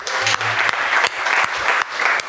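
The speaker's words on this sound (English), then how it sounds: "Can we give her another round of applause?" An audience at a cross-sector innovation forum applauds, steady close clapping from many hands that keeps up throughout without pause.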